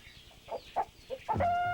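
Several short clucks from battery chickens, then a louder drawn-out squawk at the end, close by with a faint background.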